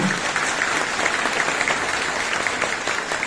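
Audience applause at a Kartal municipal event in Turkey, a steady dense wash of clapping that holds loud and even from start to end, with no voices over it.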